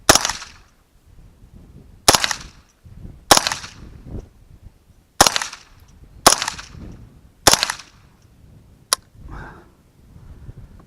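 A Nylon 66 .22 rifle fires high velocity rounds at a round-up dueling tree steel target outdoors, seven sharp cracks at uneven intervals, each loud and close with brief ringing tails.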